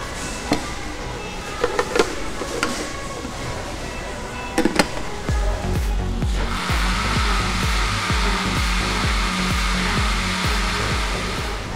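A kitchen blender whirs loudly and continuously as it blends lightly cooked rice into rice milk, following a few sharp knocks and clatters.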